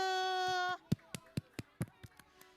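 Children in a church Sunday school class give a short round of claps, about nine distinct sharp hits in a loose rhythm, after a brief sustained tone.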